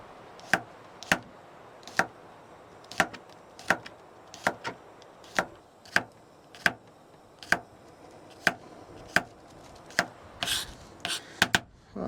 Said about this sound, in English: I'm just gonna cut them into little slices here